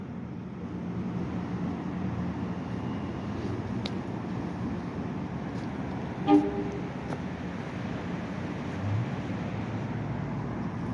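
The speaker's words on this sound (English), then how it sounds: "Another train right behind that train." An MBTA Orange Line train rumbles past Roxbury Crossing with a steady low roar, a brief horn toot standing out midway amid the rail noise.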